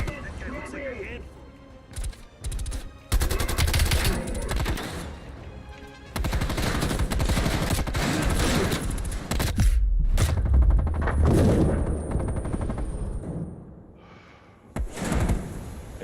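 Gunfire in the video game Call of Duty Black Ops Cold War: loud bursts of automatic fire and single shots come in long dense stretches, broken by short quiet gaps, with sharp impacts and a few thuds.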